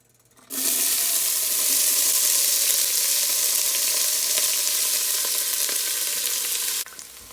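Onions hitting hot oil in a pan over medium-low heat, bursting into a loud, steady sizzle and frying hiss that holds for several seconds before dropping off abruptly.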